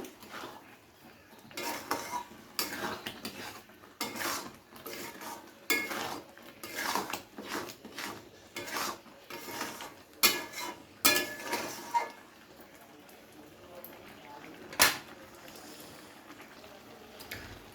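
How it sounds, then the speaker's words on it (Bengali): A spoon scrapes and knocks around a pan of thickening carrot halwa as it is stirred, giving soft, irregular rustles broken by a few sharper metallic clinks, fairly quiet and close, with no talking. "তো আবারও প্রায় 5 থেকে 7 মিনিট আমি খুব ভালো করে নাড়াচাড়া করে নিয়েছি।"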